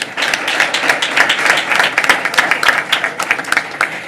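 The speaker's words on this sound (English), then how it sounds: "Let's give them a round of applause." An audience at a Board of Education meeting applauds a state-champion girls basketball team, producing loud, sustained clapping that runs continuously from start to finish with no voices over it.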